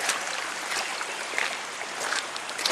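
Floodwater rushing across a local road, a steady hissing wash of flowing water heard close and alone.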